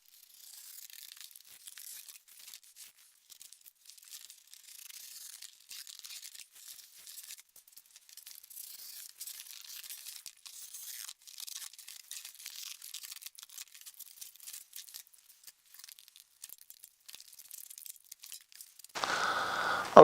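Cardboard is cut and torn by hand for a mock-up, producing faint, continuous crinkling, scraping and ripping noises throughout, ending in a louder burst of handling at the very end.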